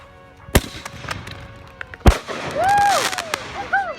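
Fireworks shot sideways on the ground: sharp close bangs and pops followed by whistling, rising and falling shell screeches, with a couple of firecracker-like cracks spread across the few seconds.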